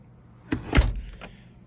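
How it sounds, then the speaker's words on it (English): An interior door with a latch that no longer meets its misaligned strike plate is pulled open without turning the knob, giving a few close, soft thumps and a rattle in a quiet room. "I can easily pull this door open."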